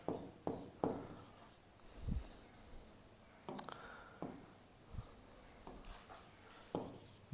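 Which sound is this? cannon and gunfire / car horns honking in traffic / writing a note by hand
writing a note by hand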